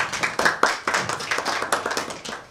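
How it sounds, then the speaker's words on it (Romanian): Dense, steady applause from an audience at a library week gathering in Adjud, Romania, many hands clapping with sharp overlapping claps throughout, close and fairly loud, with no one speaking over it. "Să aplaudăm și pe dumneavoastră."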